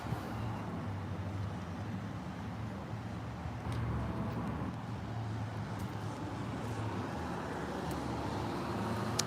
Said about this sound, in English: There's a red car and a red car pulling up right here.